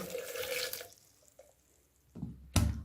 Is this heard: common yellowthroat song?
no